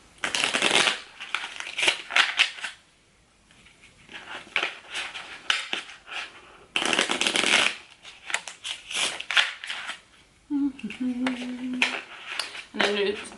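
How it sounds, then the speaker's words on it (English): A deck of playing cards shuffled several times up close, each riffle a loud papery burst of rapid flutters, separated by quieter pauses, with a short hum or voice near the end. "I'm just gonna go ahead and shuffle it a few times"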